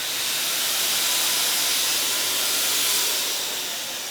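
A Titan disinfectant sprayer sends out a steady, loud hiss of fine mist at close range, continuous for several seconds and easing slightly at the end, with no voices.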